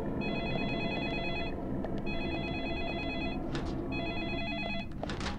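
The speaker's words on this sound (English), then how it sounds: "Why would I want to answer that phone?" A telephone rings in Deadly Premonition Origins, three bursts of rapid high electronic trilling separated by short gaps, over a steady low ambient hum, with no voices.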